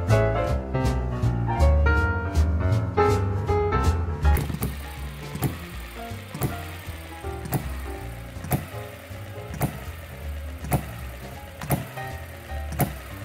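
A MUSA HM-01 model hit-and-miss engine runs steadily with sharp, regularly spaced popping beats, quick at first and then settling to roughly one loud pop per second over a mechanical clatter.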